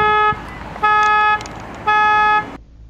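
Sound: Jeep car alarm going off

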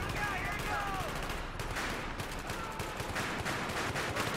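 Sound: tank main gun firing in a video game

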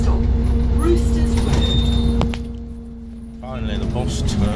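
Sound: bus arriving at stop

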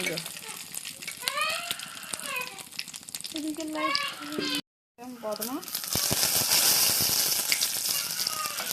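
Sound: cumin and bay leaf sizzling in hot oil

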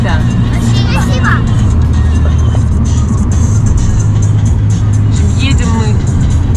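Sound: car driving on a road through Belarus

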